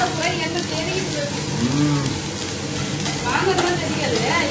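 Cooking on a stove with a chimney hood running: food sizzles and fries in a pan while being stirred, a continuous crackling hiss with scraping, under occasional voices.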